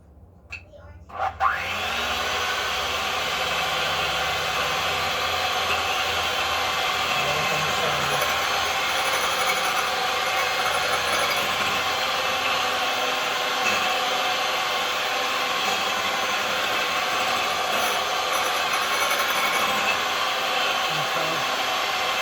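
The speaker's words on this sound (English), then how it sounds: "The mixer. It's about 30 seconds." A mixer whirs loudly and steadily for about twenty seconds while batter for an angel food cake is beaten. It starts abruptly after a brief clatter and keeps a constant broadband drone with no pauses.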